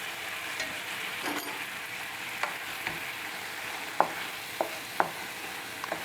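Tomatoes for ratatouille fry and brown in their juice in a pan, a steady close sizzle broken by occasional utensil scrapes and soft knocks, with no speech.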